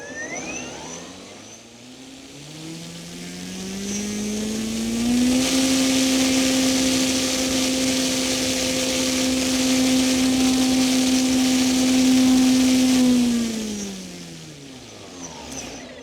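An electric RC plane motor on a Skywing 67" ARS300 spools up from idle to full throttle on the ground, holding a loud steady high whine for about eight seconds before winding back down.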